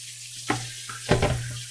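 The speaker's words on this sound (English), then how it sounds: "Put the cold water on" A tap runs cold water with a steady hiss, broken by a couple of louder splashing surges, close and moderately quiet.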